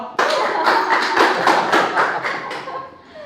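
A handful of people clap briefly at an Indonesian motorcycle community engine-teardown show, a burst of sharp, separate slaps that thins out and fades toward the end, heard close up with no talk over it.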